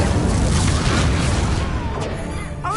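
A roaring fiery blast from the Incendio spell in a Harry Potter video game, a loud, broad whooshing burst that fades over about three seconds.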